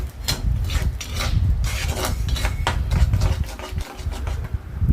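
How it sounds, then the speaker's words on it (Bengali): Tomato paste being stirred in a pan for homemade pizza, a continuous close rasping scrape of a spoon against the pan with a low rumbling undertone, steady and fairly loud throughout. "আমি এখানে টমেটোর পেস্টটা অ্যাড করে দিলাম এবং এটাকেও ভালোভাবে নাড়াচাড়া করে নেব।"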